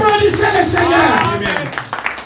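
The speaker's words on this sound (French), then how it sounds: "Applaudissez le Seigneur." Congregation clapping during a Sunday church service, a brief burst of crowd applause mixed with voices and a preacher speaking over it.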